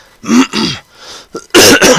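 A couple of harsh, throaty coughs or throat clearings, close and loud, followed after a brief pause by two more forceful bursts.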